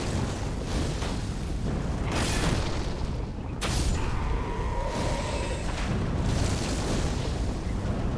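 A Great Chaos Fire Orb bursts in Dark Souls III, a dense booming explosion with a whooshing roar over continuous game rumble, fairly loud and sustained.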